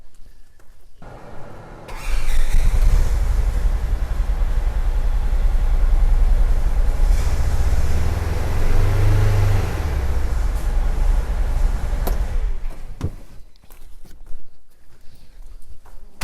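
A utility machine fitted with a DURACLUTCH Model 15-520 belt clutch starts up and its engine roars loudly and steadily for about ten seconds, with a rise in revs as gas is given, then settles back down.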